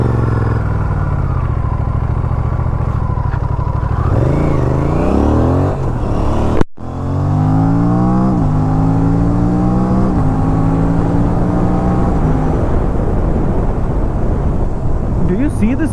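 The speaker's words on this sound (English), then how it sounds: "I'll reach till this bamboo at 100 kmph, and then I'll slam on the brakes with ABS on." Motorcycle on new Crank1 carbon brake pads with DOT 5.1 fluid, engine note rising through the gears to 100 km/h, then a short cut and the revs dropping away under hard ABS braking, loud and close throughout.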